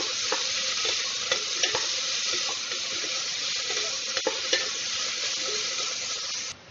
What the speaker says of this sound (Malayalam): എന്നിട്ടൊന്ന് നന്നായിട്ടൊന്ന് സോട്ട് ചെയ്തെടുക്കാം.